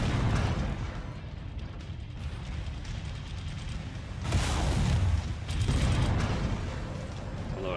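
Autocannon fire and impacts from the mech combat game MechWarrior 5: Mercenaries, heard as dense mechanical clatter and rumbling bursts that swell loudly around the middle of the stretch, with no talk over them.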